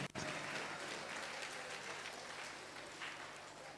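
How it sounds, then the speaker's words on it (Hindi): A crowd at a youth programme of the Ranchi Archdiocese breaks into applause after a sharp opening clap, a steady, fairly distant wash of clapping that eases slightly toward the end, with no talk over it. "एक बार थोड़ा इनके लिए जोरदार तालियां हो जाए"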